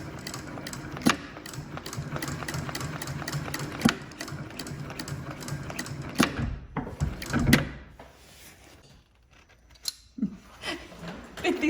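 A sewing machine stitches a strap in close, fairly quiet runs. Clunks and handling knocks break in partway through, followed by a quieter stretch with scattered bumps.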